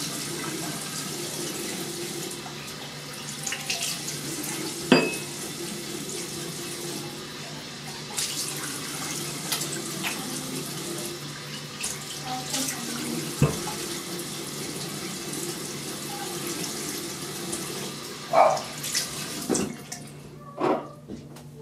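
A tap runs continuously into a sink while a shaved head is rinsed under it, with soft splashing and occasional knocks and clatters over the steady flow, and the water stops just before the end.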